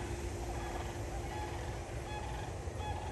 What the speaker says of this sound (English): That noise you hear, that is sandhill cranes.